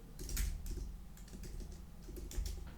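Fingers type on a computer keyboard in quick, uneven bursts of close, clicky keystrokes with brief pauses between them.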